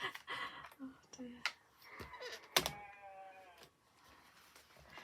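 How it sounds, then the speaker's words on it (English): Sheep bleating outside an open window on a hot day, a few wavering calls coming in from a distance beneath nearby voices and rustling indoor activity. "So we've got the sheep with us today."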